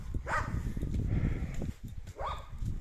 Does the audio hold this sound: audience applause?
no